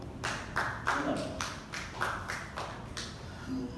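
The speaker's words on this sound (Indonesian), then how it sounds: "Boleh tepuk tangan dong." An audience at an Indonesian political talk claps in a fairly loud, rhythmic pattern of distinct claps roughly twice a second, with faint voices underneath.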